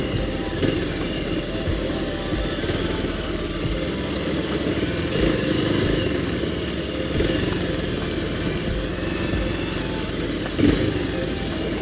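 A motorcycle ridden along a village road on a Dashain trip gives a steady, smooth engine drone throughout, with wind rumble and occasional small bumps, close and continuous.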